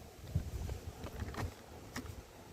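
Honeybees hum in a low, steady drone close by at a hive, with faint scattered knocks and rustles over the buzzing.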